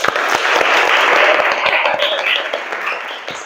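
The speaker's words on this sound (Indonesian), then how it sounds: "Kita aplaus dulu" A class audience claps after group presentations, a dense burst of close hand clapping that fades toward the end, with no talk.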